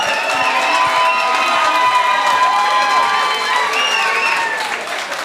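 An audience at a live stage game show applauds and cheers a contestant, dense continuous clapping mixed with loud crowd cheers and children's shouts, sustained throughout before easing slightly at the end.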